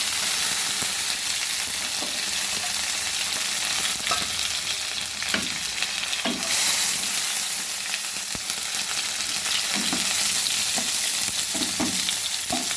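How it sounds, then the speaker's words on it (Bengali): Chopped onion and tomato fry in a pan for a small-fish chorchori, a constant close sizzle broken by the occasional scrape of stirring, with no talking. "এবার ভালো করে এগুলো ভাজতে থাকবো।"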